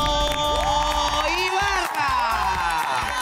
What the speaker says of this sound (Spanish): con un fuerte aplauso a Coqui González y el Checho